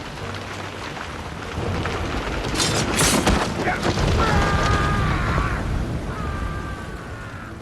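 Heavy thunderstorm rain hisses steadily while a thunder crack rumbles through the middle, followed by high whistling gusts of wind.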